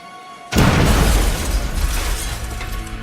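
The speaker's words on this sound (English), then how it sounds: "The explosion seriously injured the assistant and blew out the hearing of Dr. McConnell" Mail bomb blast in a documentary reenactment: a sudden loud boom after half a second of quiet room tone, followed by a dense, rumbling roar of debris that slowly tails off.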